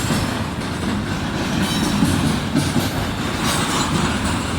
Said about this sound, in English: Very slow auto rack.